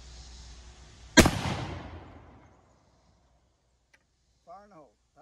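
An 1863 Springfield Civil War muzzleloader musket fires a single loud, sharp outdoor blast whose boom rolls away over a couple of seconds, and brief speech follows.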